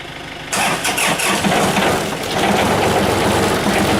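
A vehicle engine cranks over in the cold, catches after a brief quiet lead-in, and settles into a loud, steady rough idle close by.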